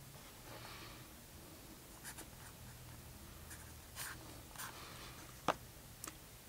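A Jinhao fountain pen with a stub, medium or extra fine nib scratches faintly across paper, giving soft, intermittent strokes and a few sharper ticks close to the page, with no talking.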